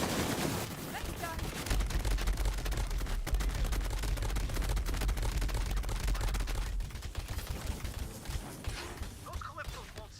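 Gunfire in the video game Borderlands, dense continuous bursts of automatic fire and impacts that pound on for about seven seconds before thinning out, loud and close, with a game character's voice mixed in.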